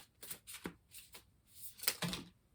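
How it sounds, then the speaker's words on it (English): Tarot cards are shuffled by hand in several quick, soft riffling bursts separated by short pauses, close and fairly quiet, with no talking. "let's do some shuffling for our lovely Sagittariuses for the month of June 2021"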